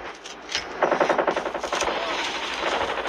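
Rapid automatic gunfire in a video game, a steady burst of close, loud shots that runs for a few seconds with almost no talk.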